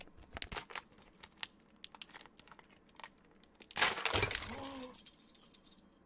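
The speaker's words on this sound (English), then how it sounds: "I'm gonna open all the packaging and then just like dump them out." Plastic packaging around HyperX Pudding keycaps crinkles and tears, with scattered small crackles and handling clicks building to a loud, close burst of rustling and clattering pieces near the end.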